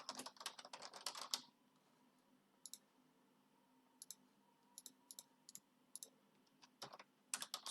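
Typing on a computer keyboard while working in a terminal on rsync commands: a dense burst of rapid keystrokes at the start, then sparse single clicks and short clusters, and a final quick flurry, close and alone.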